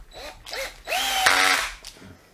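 Repaired Bosch GSB 18V EC cordless drill revving in several short bursts, whining up and down in pitch, with one longer run near the end.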